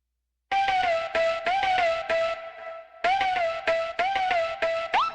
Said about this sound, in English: Without this reverb, it sounds like this.